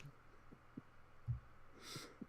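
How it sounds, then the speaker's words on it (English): Faint, low heartbeat-like thumps played as a sound effect during a tabletop role-playing session, a few soft irregular beats under a quiet hum, ending with a brief hiss. "Is someone making a heartbeat?"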